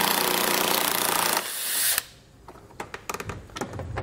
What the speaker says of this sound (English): That's an 8mm socket to get those removed.